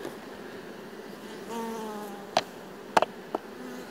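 A honeybee colony hums inside a Warré hive during smoking and swarm splitting, a low steady buzz with a brief rising whine and a few sharp clicks near the end, with no voices.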